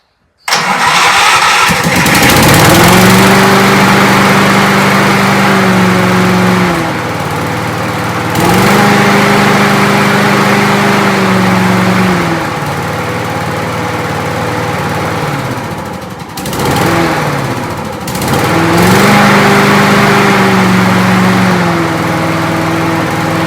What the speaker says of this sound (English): We have got a running Key Start Rover mower here.